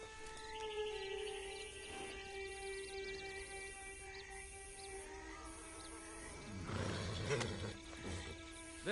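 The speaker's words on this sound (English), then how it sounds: "Been a while since you rode a horse." A horse in the Red Dead Redemption Online video game neighs and snorts over game ambience and music, with a louder burst of whinnying and movement near the end.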